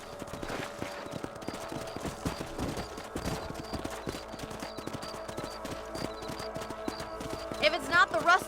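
Horses trot across open country in the Western video game Red Dead Redemption, a steady clip-clop of hooves over continuous game ambience, swelling louder near the end.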